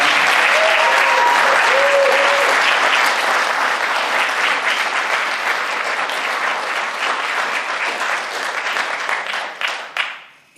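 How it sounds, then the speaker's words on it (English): An audience at a rabbinic talk gives a big round of applause: dense, loud, sustained clapping from many hands that thins and fades out near the end. "just give a big round of applause for that."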